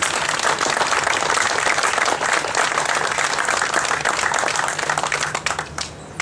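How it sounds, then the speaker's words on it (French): A crowd in an audience claps continuously in a thick, even wash of applause that gradually tapers off toward the close. "je crois qu'on peut les applaudir"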